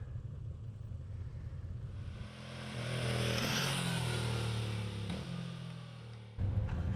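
A 2025 Moto Guzzi V7 Sport motorcycle on the move, its engine rumbling steadily, then swelling in a rising rev with rushing wind before easing off, with a brief drop and a fresh burst of engine noise at the end.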